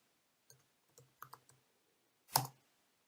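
A handful of light, separate keyboard taps come as a layer name is typed in Photoshop, followed by one louder click, all close and quiet in an otherwise silent room.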